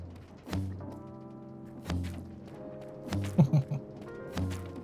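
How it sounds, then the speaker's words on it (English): Potato cannons firing potatoes and golden carrots in the Minecraft Create mod, several hollow thunking shots at irregular intervals over a droning machine hum, with a brief rattling burst in the middle. "It's potato cannons, so you can shoot potatoes, golden carrots, carrots."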